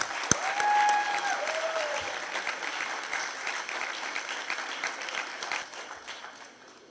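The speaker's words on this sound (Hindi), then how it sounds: "आप सबकी भरपूर तालियों में" A hall full of listeners claps steadily at a women's conference to welcome an actress on stage, a thick, even wash of applause that tapers off slightly toward the close.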